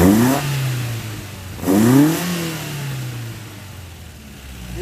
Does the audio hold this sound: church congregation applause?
no